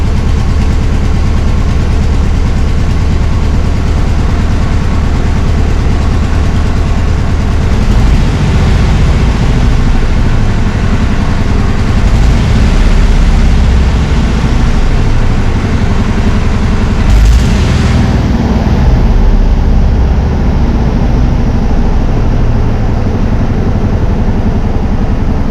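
A 1965 VW Bus engine idles while warming up, a loud, close, steady rumble that runs throughout with slight shifts in pitch and a few brief rises.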